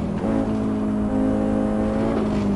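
Audi Quattro engine in the Assetto Corsa racing game, a loud, close, sustained rev with a strong harmonic drone that dips briefly and climbs again during a hotlap.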